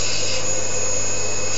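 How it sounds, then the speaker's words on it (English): A fine dental lab burr grinds a denture, giving a continuous high-pitched whirring hiss that stays loud and even throughout the short stretch, with no talking. "now I'm using a less coarse burr"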